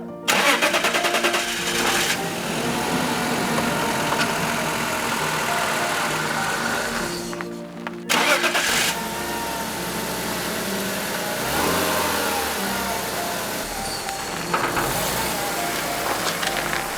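An ailing BMW 528i with oil in its cylinders cranks and starts, then revs and idles roughly in a loud, continuous run with a brief dropout partway through.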